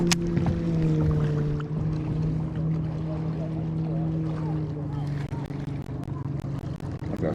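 Trolling motor pushing a fishing boat on Lake Sonoma, a steady low electric hum with faint water swish, close and continuous, with a person talking over it.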